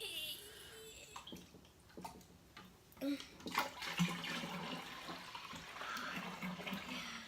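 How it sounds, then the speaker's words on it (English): Water from a pitcher pours into a gallon container for homemade liquid laundry detergent, a gurgling splash that builds and surges midway, close to the listener, with a few brief voices over it. "can you pour that other pitcher in so we have a whole gallon?"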